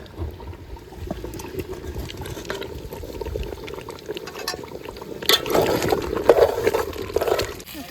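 Soaked potatoes are added to a pot at an outdoor cookout beside a river. Soft liquid bubbling leads into a louder splash and pour of water partway through, with no speech.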